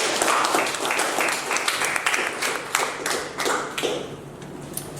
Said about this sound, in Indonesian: Tepuk tangan untuk Mas Irfan.